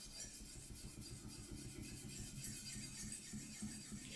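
Kai Shun Santoku knife being sharpened on a whetstone with smooth, light strokes, giving a soft continuous rubbing scrape, close but quiet.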